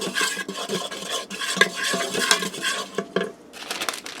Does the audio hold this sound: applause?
no